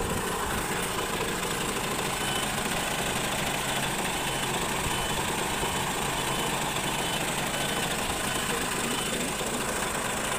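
An Isuzu truck engine runs steadily after being started, a continuous loud idling rumble with rough mechanical vibration and no break over the whole stretch, with no talking.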